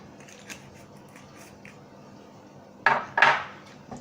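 A knife slicing a vanilla pod in half on a kitchen board gives two short, close crisp cutting sounds near the end, after a quiet stretch with faint handling noises.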